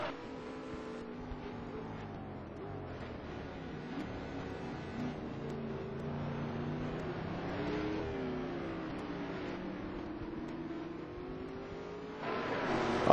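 Racing car engines, including a Mosler, drone and shift pitch at a distance on the Nürburgring circuit, faint and sustained, rising toward the end.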